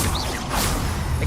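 A wand spell whooshes in the Hogwarts Legacy video game, a brief swishing burst of magic with a faint impact, fairly loud over low game rumble.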